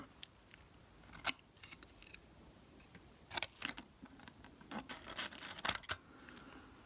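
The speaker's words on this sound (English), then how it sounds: "So we just cut a small piece" A few short snips of scissors cutting a small piece of aluminum tape, crisp and close, scattered irregularly across a quiet background with light rustling in between.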